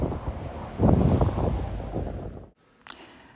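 Wind buffets the microphone as waves wash onto a beach at Bergeggi on the Ligurian coast, a rough, close rushing surge that swells and then cuts off, followed by a faint short click.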